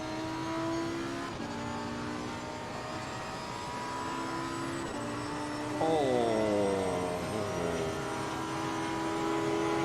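A Porsche race car engine in the racing game Assetto Corsa Competizione holds a steady high whine, dips through gear changes, then surges as it revs up again, loud and continuous.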